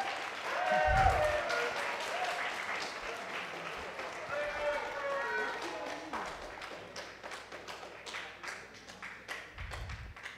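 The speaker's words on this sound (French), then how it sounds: "que vous pouvez applaudir bien fort" An audience applauds the Radio Brony and Poney Blanc teams at a BronyDays 2013 fan convention panel, steady clapping filling the room at moderate loudness and tapering off, with a few low thumps near the start and end.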